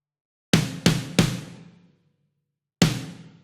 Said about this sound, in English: So if I combine all three snares, they sound like this.